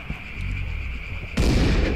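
Shotgun firing in the video game Dead Age, a single sharp loud blast that cuts in abruptly after a quieter stretch of background game ambience and keeps booming to the end.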